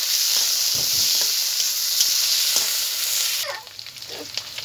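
Chopped onions frying in hot oil for a taro flower curry, a loud, continuous sizzling hiss with light stirring clicks that drops suddenly to a quieter crackle near the end.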